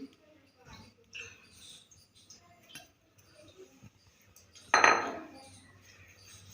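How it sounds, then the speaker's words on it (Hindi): Ground makhana, gond and nuts are mixed in a bowl, giving soft scattered scrapes and light clinks of a utensil, then one louder rattling clatter near the end, quiet and close. "अब इन सारी अज्जा को मैं अच्छी तरह मिक्स कर रही हूँ"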